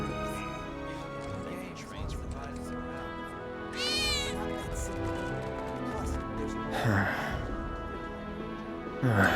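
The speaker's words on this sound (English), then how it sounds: "I think one of Betty's cats" A cat meows a few times in Final Fantasy 7 Remake, with the calls rising over a steady game score and scattered background effects.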